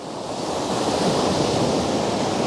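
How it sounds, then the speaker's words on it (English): Ocean waves wash in over coastal rocks in a steady, broad roar of surf and spray, loud and close with a slight swell in intensity, no voices. "There we go. Water coming in."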